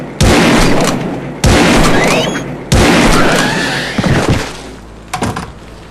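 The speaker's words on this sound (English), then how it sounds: "I think I'll just use a trusty shotgun." Three loud shotgun blasts in the game Realms of the Haunting, each a sharp boom with a long decaying tail, spaced about a second apart, followed by two softer thuds.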